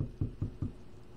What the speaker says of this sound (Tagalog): Oh, may kumakatok.